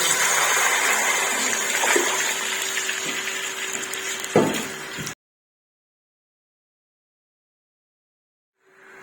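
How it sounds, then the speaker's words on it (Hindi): Five glasses of water poured steadily into a cooking pot for kabsa rice, a continuous loud gushing splash for about five seconds that cuts off abruptly into silence. "अब हम इसमें 5 ग्लास पानी डालेंगे।"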